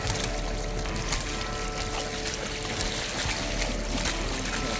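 Water rushing and splashing around a bike at a shallow river crossing, the Crux Point on the Highland Trail 550 bikepacking route, a steady, dense wash close by with no voices.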